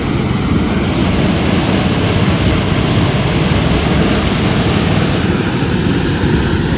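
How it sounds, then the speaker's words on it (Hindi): A fast-flowing river current rushes past as a loud, unbroken roar of churning water, close and constant throughout with no speech. "पूरा बहाव, पूरी जाल बनी हुई है, पूरा तेज पानी है, फास्ट।"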